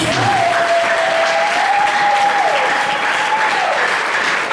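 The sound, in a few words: congregation applauding the Lord in church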